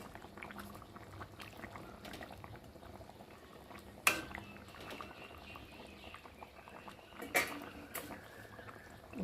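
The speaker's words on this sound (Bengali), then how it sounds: "এখন ভেজে রাখা মাছগুলোকে দিয়ে ভালো করে ঝোল দিয়ে ঝোলের সাথে ফুটিয়ে নেব" Fried rohu fish pieces simmer in a boiling curry with potato and eggplant, a quiet steady bubbling broken by two sharper clinks.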